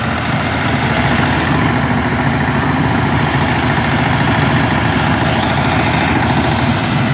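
Tractor engines straining as they pull a loaded tipper trolley that is stuck, a loud, steady, low rumbling drone with heavy vibration, continuous and close throughout.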